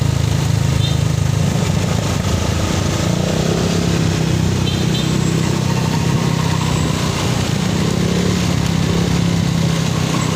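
A big motorcycle engine rumbles steadily in street traffic, a continuous mid-pitched idle and drone close by, with faint voices mixed into the busy background.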